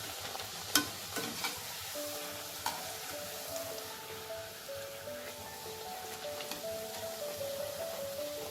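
Bhatura dough of maida frying in well-heated white oil in a kadai, a steady close sizzle and bubbling that runs alone throughout, with a few sharper crackles and spits near the start.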